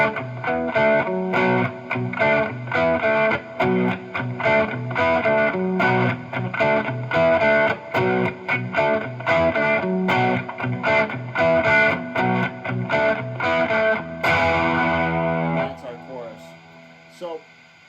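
Distorted electric guitar playing the signature riff slowly, a repeating chugging pattern of palm-muted notes, ending on a ringing sustained chord, with no speech over it.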